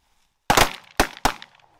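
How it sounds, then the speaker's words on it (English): Three loud, close shotgun blasts go off in quick succession during a goose hunt. Each report has a short decaying tail, and the last two land only a quarter second apart. "some good shooting right there"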